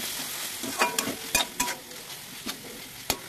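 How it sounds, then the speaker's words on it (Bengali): A spice paste of garlic, ginger and ground garam masala fries in a pan for a Bengali-style mushroom masala, with a low steady sizzle punctuated by sharp spatula scrapes and clicks of vigorous stirring. "দিয়ে মশলাটাকে খুব ভালোভাবে কষিয়ে নেব।"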